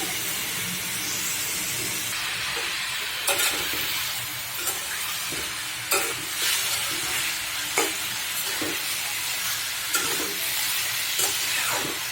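Taro (kochu) bhaji frying in a pan with plenty of garlic and onion gives a steady, close sizzle and hiss, broken by occasional soft clinks as a spatula stirs, with no talking.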